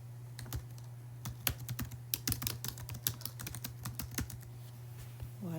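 A podcast title is typed on a computer keyboard in Canva: close, irregular key clicks come in quick clusters with short pauses over a faint steady hum, and no one speaks.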